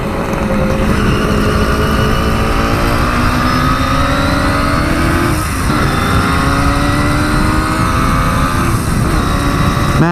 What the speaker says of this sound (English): Man, this sounds like a motorcycle should sound,